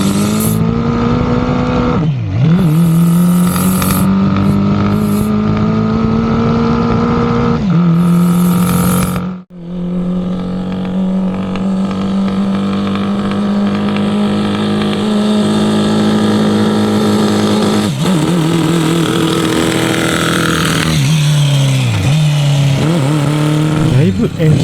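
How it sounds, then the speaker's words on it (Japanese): A home-built four-cylinder 125cc motorcycle engine in a Honda Monkey, fitted with a size 118 main jet, revs repeatedly, climbing and dropping in pitch with a brief cut near the middle, loud and close throughout. "だいぶエンジンが回るようになってきました。"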